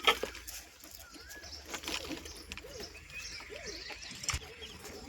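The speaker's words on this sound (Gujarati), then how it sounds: "તો સફેદ કબૂતરની માદી બેઠી છે અહીંયા" White pigeons in a loft coo in low murmurs with scattered chirps, and a brief flurry of wing flaps comes near the start. The birds are close and moderately loud, and no one talks over them.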